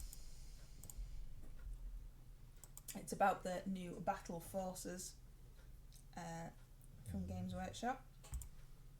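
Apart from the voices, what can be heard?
typing on a computer keyboard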